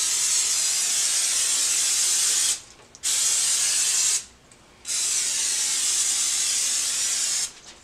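Butter sizzles loudly on a hot griddle while cooking a Moons Over My Hammy sandwich, a close, bright, continuous hiss broken by two abrupt brief pauses before resuming.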